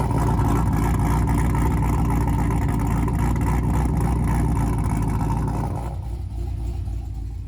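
A car engine with an exhaust that was just resealed roars loudly and continuously through its exhaust under throttle, then drops back somewhat near the end.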